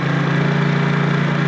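A motorbike engine idling to warm up, a loud, close, steady low thrum with an even pulsing rhythm and no pauses.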